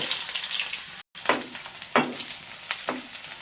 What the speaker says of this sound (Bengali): এই যে তেল গরম করতেছি পাতিলটা গরম হলো এবার তেল ঢেলে দিচ্ছি